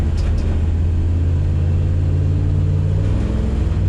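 A car engine drones steadily with a constant low rumble under load and no clear rise in pitch, close and fairly loud throughout with no talk.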